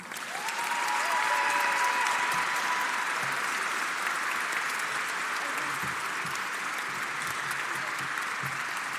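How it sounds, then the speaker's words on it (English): Audience applause at a nursing (ADN) pinning ceremony, a dense steady wash of many hands clapping that swells quickly and holds loud and continuous, with a faint tone briefly sounding near the start. "give these four superheroes a round of applause."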